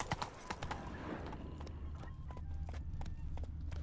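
Hooves clip-clop at a quick galloping pace as a horse runs in The Witcher 3 video game, a steady rhythmic beat close up with a low background rumble.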